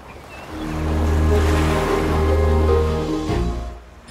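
Sea waves wash onto Guhagar beach on the Konkan coast, heard from a seaside temple: one broad surge swells, holds and then recedes, with a low wind-like rumble beneath.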